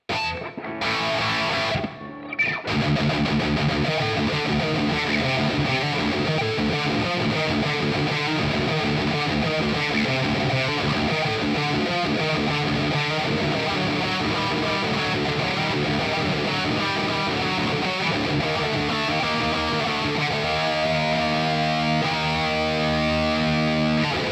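Overdriven electric guitar through an amp with drive and reverb pedals, playing chords and riffs with a reverb tail, loud and continuous, after a brief pause near the start.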